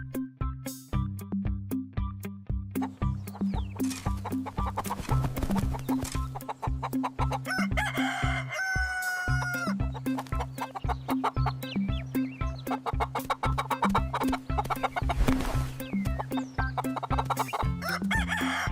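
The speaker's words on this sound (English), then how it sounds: "Roosters often crow in the morning." A rooster crows loudly over steady, rhythmic clucking from several nearby chickens, the clucking continuing throughout.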